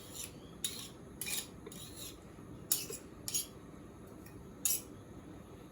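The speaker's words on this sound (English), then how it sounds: "what we're doing is just rubbing this in till it makes very fine, the flour should feel like incredibly fine breadcrumbs" Butter being rubbed into flour by hand for dumplings to go with lamb stew, heard as soft gritty rubbing with a few brief crisp scraping bursts, close and quiet, no talking.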